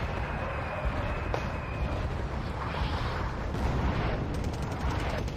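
Mortar fire in the war strategy game Wargame: Red Dragon, a continuous rumble of distant artillery booms and mechanical battlefield noise at moderate volume.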